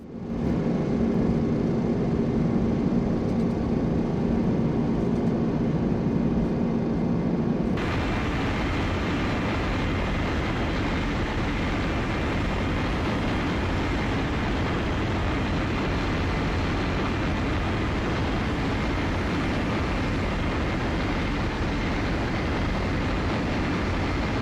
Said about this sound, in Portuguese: dentro de alguns segundos o avião começa a acelerar